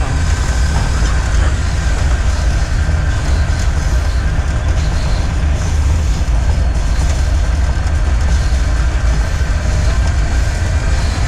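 A train heard from a GEU20 locomotive cab rumbles steadily along the tracks near Mangla Dam toward the abandoned Ratiyal station, loud and close, with a constant low roar and faint clatter of wheels and no talking.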